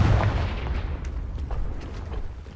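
A Confringo explosive spell goes off in a PS4 video game, bursting as a deep boom at the start that rolls into a fading, rumbling decay.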